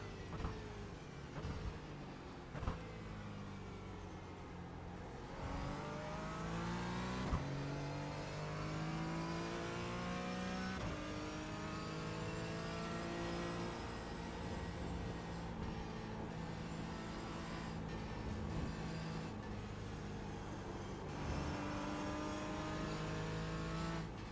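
Porsche 718 GT4 race car engine in the iRacing game at The Bend circuit, loud and continuous, its pitch climbing through gear changes and dropping under braking, with steady revving and no talk.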